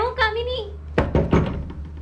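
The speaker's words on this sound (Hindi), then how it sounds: "मैंने दरवाजा खटखटाया और अम्मा को आवाज दी" Three quick, solid knocks land on a door, close and distinct, following a brief sung or spoken tone. Each rap is sharp and separate.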